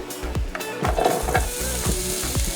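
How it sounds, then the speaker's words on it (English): Potatoes frying in a little oil in a pan, a steady close sizzle with scattered sharp pops and clacks as the pieces are tipped in and stirred. "So now we're going to get these potatoes in"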